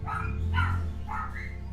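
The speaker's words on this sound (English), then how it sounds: "that little yap dog is very annoying" A small yappy dog barks in quick bursts at mid distance, several sharp yaps spread over a couple of seconds against a steady low background hum.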